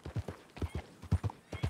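A horse's hooves clip-clop in Red Dead Redemption 2, with a steady trotting rhythm of soft, muffled thuds. The sound is fairly faint and there is no talk over it.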